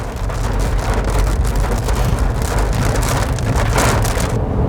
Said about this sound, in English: Rain is about to start. There it is.